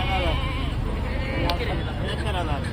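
Goats bleating amid a busy livestock market crowd, with a steady babble of voices and shouting throughout and animal calls rising repeatedly above the noise.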